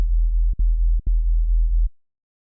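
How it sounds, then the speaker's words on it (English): Pure sine-wave bass from the Serum synthesizer, its level and filter cutoff modulated with no FM, for a free-form bass patch: a loud, steady low tone with two brief dips in the middle, then it cuts off into silence. "So it's a sine wave. The level is being modulated in here, no FMing."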